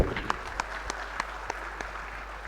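An audience at an IIT Kharagpur guest lecture applauds the visiting speaker: a sparse, fading patter of claps with a few sharp individual hits standing out over a low room hum.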